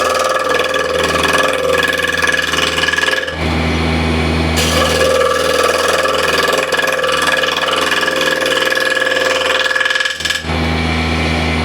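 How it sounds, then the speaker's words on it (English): A woodturning lathe spins a workpiece while a refiner is used as a shear scraper, giving a loud, steady mechanical drone with a grinding scrape, briefly dropping and resuming midway. "I'm using the refiner as a shear scraper, so the first few passes will be slightly rougher."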